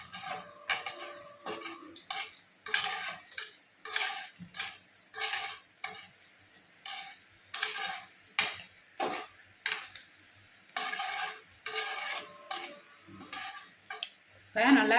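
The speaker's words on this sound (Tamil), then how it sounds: "பக்கடாவை போட்டிருக்கோம். இப்போ இதை என்ன செய்யணும், கிண்டி விடணும், பரட்டி விடணும்" Cauliflower pakoda being stirred in hot oil in a pan, with a string of sharp clinks and scrapes from the spoon against the pan, evenly spaced and close, amid soft frying and a voice talking throughout.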